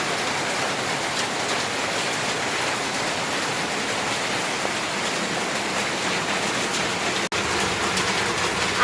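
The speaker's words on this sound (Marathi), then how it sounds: "इकडे पाऊस बघा, अजिबात थांबत नाही आहे पाऊस" Heavy monsoon rain pouring steadily in Chiplun, a dense, even roar that holds without pause throughout.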